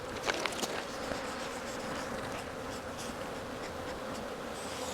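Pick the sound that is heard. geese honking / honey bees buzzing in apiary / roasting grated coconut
honey bees buzzing in apiary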